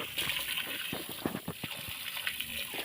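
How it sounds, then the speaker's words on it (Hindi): Water gushing and pouring steadily as buckets are filled with drinking water at home, a continuous close splashing rush with small knocks and clatters throughout. "ये जो मैं पानी भर रही हूँ, ये पीने का भर रही हूँ।"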